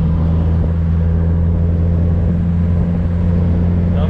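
A Mazda Miata's exhaust after a mid pipe install, once clogged by its catalytic converter, rumbles loudly and steadily up close, a deep continuous engine drone with slight surges in pitch throughout.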